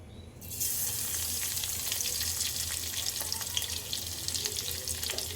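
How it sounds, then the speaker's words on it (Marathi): Crushed garlic drops into hot oil and sets off an abrupt, bright, hissing sizzle that keeps crackling steadily and close up for several seconds, with no voices over it. "आपलं तेल छान असं तापलेलं आहे। आता आपण त्यात लसूण घालून घेऊया ठेचलेलं।"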